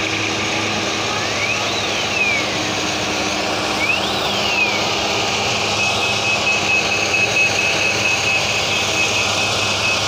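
Tata truck engine droning steadily as it climbs a slope on a hill road, a loud continuous low rumble with faint rising and falling whistles and a thin steady beep above it, no talk.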